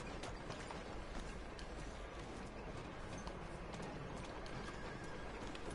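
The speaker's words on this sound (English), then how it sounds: "There's the horse." Horse hooves clip-clop steadily beneath an occasional whinny in the Red Dead Redemption 2 video game, a dense, continuous gait sound running throughout with no talking over it.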